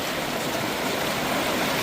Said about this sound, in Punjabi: ਹਰ ਇੱਕ ਜਗ੍ਹਾ ਪੰਜ ਪੰਜ ਬੋਰਾਂ ਦਾ ਪਾਣੀ ਗਿਰ ਰਿਹਾ